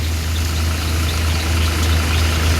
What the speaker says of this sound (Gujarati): અને મિત્રો આ રીતના કંઈક હાલે છે આપણું ઠેસર જીરુમાં